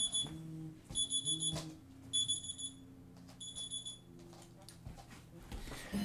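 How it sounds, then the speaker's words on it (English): An alarm clock rings in repeated bursts of high electronic beeping, about four groups across the clip, over a low indoor hum and a few faint background noises. "Okay, that's my alarm clock."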